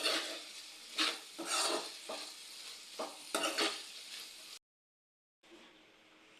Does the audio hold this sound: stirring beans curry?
yes